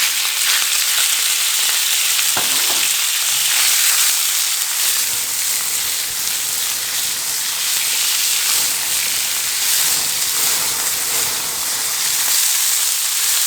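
Food frying in olive oil in a small pan over high heat, a loud, dense, continuous hiss and crackle holding steady throughout with no voices.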